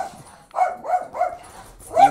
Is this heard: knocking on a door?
no